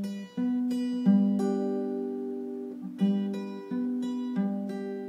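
Acoustic guitar picking the notes of a song on open strings, a slow sequence of single plucked notes about every half to one second, each ringing and overlapping the next, played alone at moderate volume.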